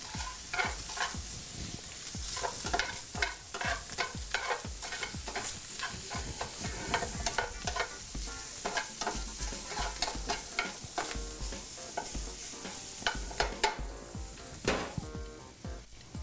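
Food sizzles and fries in a pan while being tossed and stirred to brown in a catering kitchen, a steady close crackling hiss with repeated scraping stirs throughout and no talk.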